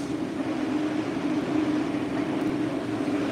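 A broken-down MBTA Red Line subway train sits idling with a steady, loud low hum and broadband rumble that holds constant and close, with no voices heard.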